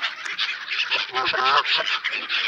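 A flock of geese honking and squawking nearby in England, overlapping nasal calls in a busy, continuous chorus.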